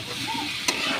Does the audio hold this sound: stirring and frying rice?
yes